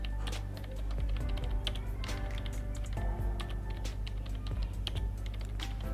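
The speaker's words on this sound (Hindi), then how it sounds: "जैसे मैं यहाँ टाइप करती जा रही हूँ।" Steady typing on a computer keyboard during a typing lesson, with quick irregular key clicks running continuously over a low background hum.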